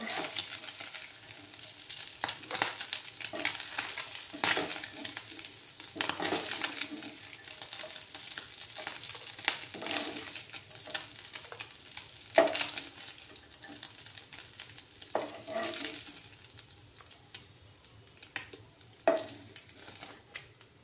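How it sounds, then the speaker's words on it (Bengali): Steady oil sizzle of tengra fish frying in a pan, with occasional scrapes and clinks of a utensil stirring, continuous and moderately loud with no talking. "আমার মাছগুলো ফ্রাই হয়ে গেছে, এবার আমি মাছগুলো তুলে নেব।"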